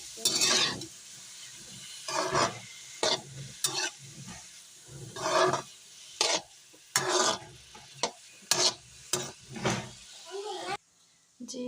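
Boiled pumpkin being stirred in ghee for halwa, a series of close, wet scraping and sizzling strokes in bursts, with someone talking between them.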